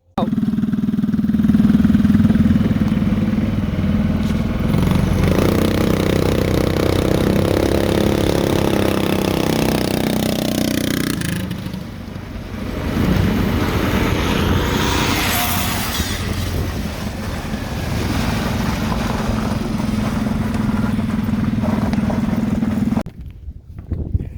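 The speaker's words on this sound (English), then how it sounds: "we're going to be going and drag racing the new barn find against Josh's bike" Barn find motorcycle drag racing against another bike outdoors, with loud engines revving hard and droning steadily nearby, dipping briefly mid-run before surging again, then cutting off abruptly at the end.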